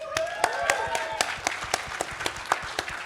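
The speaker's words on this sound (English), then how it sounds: "Big hands of applause" Audience applause at a Tesla community breakout session on stage, a smattering of distinct claps with individual sharp hits standing out over a thinner crowd patter, moderately near, with some background voices.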